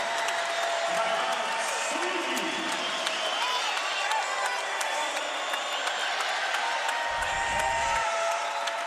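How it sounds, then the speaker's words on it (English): Basketball arena crowd at a Southern Illinois Salukis at Bradley Braves game, a steady roar of cheering and applause that fills the whole stretch with little variation, with announcers talking over it. "This crowd is fired up"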